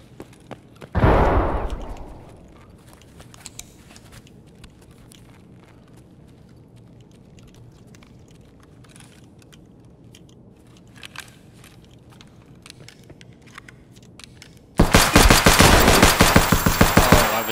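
KS-23 shotgun fire in Escape from Tarkov: one loud close blast with a decaying tail near the start, a long quiet stretch of faint clicks and movement, then a loud dense burst of rapid shots at the end.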